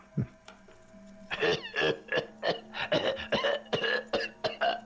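A string of harsh, raspy coughs and throat-clearing bursts repeats in quick succession, close and fairly quiet.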